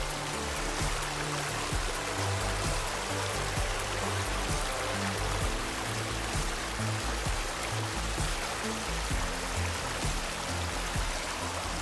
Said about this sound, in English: to listen to this creek here